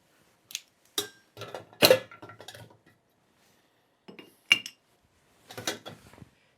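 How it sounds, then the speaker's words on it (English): An ice cube dropped into a glass while mixing an Old Fashioned, giving a few sharp, close clinks and rattles separated by quiet pauses, with no talking. "we're going to put our ice cube in there first"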